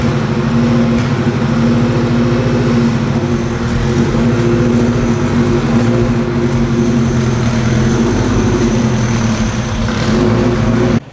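A Honda car drives along the road in a steady, loud cabin drone of engine and road noise, with a slight rise and fall in revs and no talking.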